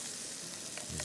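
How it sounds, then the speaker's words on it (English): Fish sautes in olive oil on a camp stove, with a continuous soft sizzling hiss and faint scraping stirs, quiet and uninterrupted. "He's sauteing it up in olive oil,"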